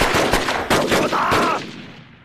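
Loud, rapid bursts of gunfire crack out close together during a war film battle against Japanese troops, dense volleys for over a second before trailing off into a fading echo.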